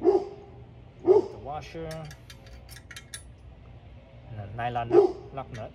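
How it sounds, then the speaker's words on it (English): A dog barks a few times at a neighbor's landscaper, spaced sharp barks heard over someone talking nearby while small metal parts clink during assembly. "So that's my dog barking at the neighbor's landscaper."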